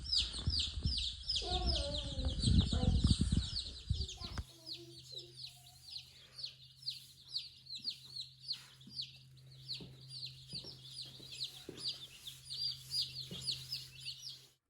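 A flock of mail-order chicks chirps in rapid, continuous high peeps close by, with a soft low hum underneath and a brief stretch of louder handling noise and a voice near the start.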